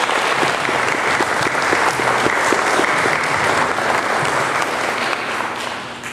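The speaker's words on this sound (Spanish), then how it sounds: "Un aplauso para todos ellos, por favor." Warm applause from attendees at a community meeting, steady dense clapping with a few distinct claps near the front, loud and sustained before gradually tapering off at the end.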